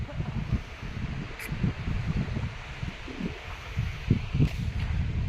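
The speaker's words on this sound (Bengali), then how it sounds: "তো উপরে প্রচুর পরিমাণে হাওয়া দিচ্ছে" Strong wind gusts across the top of a tall tree house, a steady broadband rush with low buffeting thumps against the microphone throughout, joined by faint rustling.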